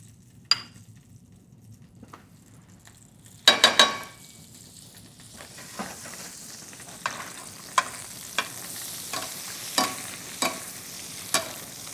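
Butter sizzles and foams steadily in a pan alongside salmon, a soft continuous fry with a few sharp pops and spatters, close and fairly quiet, no talking.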